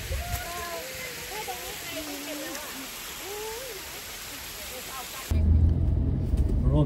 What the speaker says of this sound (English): We have a waterfall in the middle of nowhere.